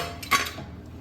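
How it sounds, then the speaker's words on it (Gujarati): A metal pressure cooker lid clanks open after cooling over boiled peas, one short bright metallic clink within steady background hiss. "કુકર ઠંડુ થઈ ગયું છે. હવે આપણે ખોલીને વટાણાને ચેક કરી લઈશું."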